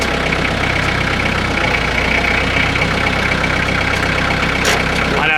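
Tractor engine straining to drag a heavy, washed-out fence loaded with debris, a loud, steady rumble that holds without a break the whole time.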